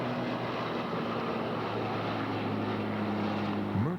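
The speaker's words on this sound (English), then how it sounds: "This B-24 did not land at the Geneseo airport, but it flew in for a formation flight with the B-17 and the Avro Lancaster." A B-24 propeller bomber flies in formation with a B-17 and an Avro Lancaster, a steady, loud droning engine roar that holds evenly throughout with no talk.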